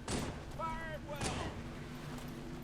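Gunshots in a video game: two loud, heavy blasts about a second apart, with a short burst of voice between them.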